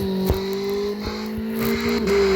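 A car engine in a driving video game during a suspension test hums at a steady rev with a sustained tonal whine, briefly dipping and shifting pitch, close and continuous.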